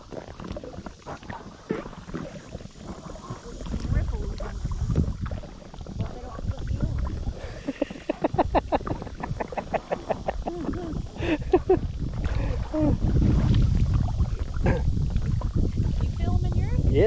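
Kayak or canoe paddled with short, choppy strokes on open water, the paddle splashes and sloshing running under steady wind buffeting the microphone, with people talking nearby throughout.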